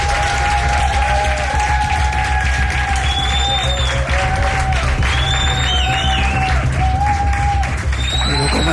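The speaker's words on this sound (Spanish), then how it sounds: "Os pido un aplauso para que se sienta que estamos ahí." Crowd at a live radio broadcast stand claps and cheers steadily, with whoops and whistles rising above the dense, close applause throughout.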